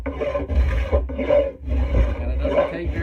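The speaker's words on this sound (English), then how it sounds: "We go to our trusty spoke shave," A Lee Valley spokeshave shaves an ash axe handle in repeated rasping strokes, about five close, rhythmic scrapes with short pauses between them.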